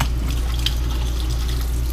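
Water sprays steadily from an extendable rinse wand into a tough double-basin stainless steel sink in a 2014 Forest River Georgetown 351 DS fifth-wheel RV, fed by the onboard pump. It makes a constant, close hiss with no voices.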